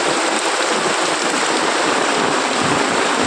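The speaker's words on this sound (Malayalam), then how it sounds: "നിങ്ങൾക്കൊക്കെ നല്ല മഴയാണ്" Heavy rain pours down steadily, a dense, loud, close wash of hiss that never lets up, with no voices over it.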